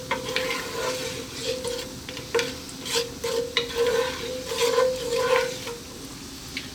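Cloves, cumin seeds and green cardamom pods sizzle in hot oil for chicken kabsa, a close, constant crackling hiss with repeated stirring scrapes and light knocks of a utensil against the pot, with no talk.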